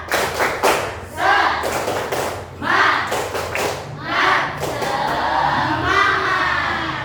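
A classroom of children performs a rhythmic spirit clap (tepuk semangat), sharp claps and thuds in patterned bursts with chanted voices mixed in, close and lively.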